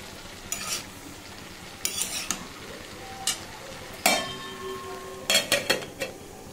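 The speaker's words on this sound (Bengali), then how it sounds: "তারপর ঢাকা তুলে দেখো আরেকটু নাড়ি দেবো, যাতে দেখি পিছনে নিচে ধরে না যায়" A spoon stirs ash gourd curry with lentil dumplings in a pan, giving several short scraping, clinking strokes in separate bursts over a faint sizzle, close and fairly quiet.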